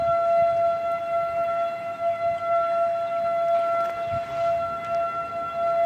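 An outdoor civil defense siren sounding during a tornado warning, a steady wailing tone holding at a constant pitch with faint ambient noise beneath and no talking.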